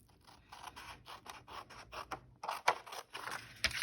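Scissors snip through paper to cut out journal tags, a close run of crisp, irregular cuts and papery rustles, with a short pause partway through before the cutting resumes.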